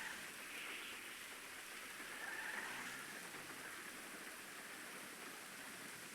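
Steady rain pours down in a video game played on PS5, an even hiss of falling water holding at one constant level from start to finish with no talk over it.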